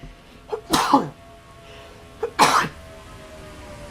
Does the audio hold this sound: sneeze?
yes